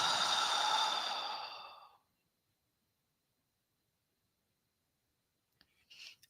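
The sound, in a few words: slow exhale during a meditation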